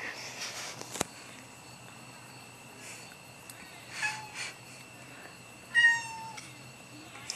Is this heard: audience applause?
no